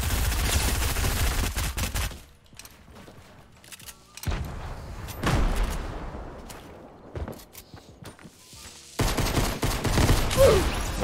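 Bursts of shotgun blasts and machine-gun fire in the Fortnite video game, loud volleys broken by short quieter gaps, with no talking.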